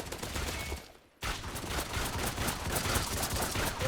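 Sustained rapid automatic fire from an AUG rifle in a video game, loud and continuous, with a short pause about a second in before the shooting resumes.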